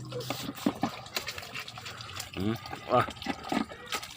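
Water running and splashing while dishes and plates are washed by hand, a steady wet trickle and clatter under frequent talking voices.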